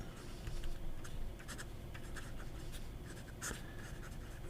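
Fountain pen nib scratching across paper, a faint, steady close-up rasp lasting a few seconds with no one talking.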